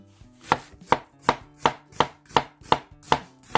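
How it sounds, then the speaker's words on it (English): A knife slices through an onion on a cutting board in about nine crisp, evenly spaced chops, close and clear with no talk. "I slice an onion."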